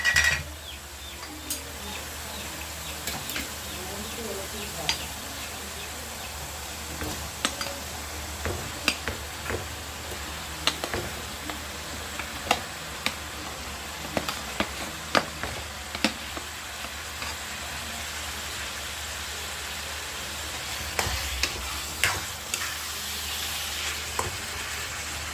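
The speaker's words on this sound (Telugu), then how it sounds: "దీంట్లోకి అంతా కట్ చేసి పెట్టుకున్న బంగాళదుంప ముక్కలు ఉన్నాయి కదా అయితే వేసేసుకున్నాం" Cut potato pieces fry in oil in a pan, a steady low sizzle running throughout, punctuated by frequent clicks and scrapes of a spoon stirring them against the metal.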